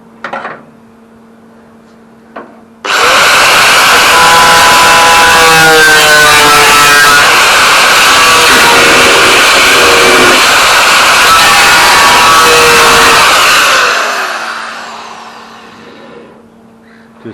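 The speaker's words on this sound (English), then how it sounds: "and now I'll start cutting up here." Power tool cutting through rusted cowl metal on a Holden Torana UC, a loud, steady, harsh grinding roar that starts abruptly, runs unbroken for about eleven seconds with shifting whine, then tapers off.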